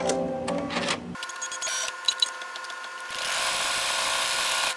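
An embroidery machine at work on a composition notebook cover: a short burst of rapid stitching, a pause with a few clicks and rattles, then a steady whirring run of stitches resumes, close and moderately loud.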